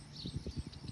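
Donkeys beside a rail trail on the Cardinal Greenway, their hooves clopping in a quick, uneven rhythm of soft thuds, fairly close and steady for a moment.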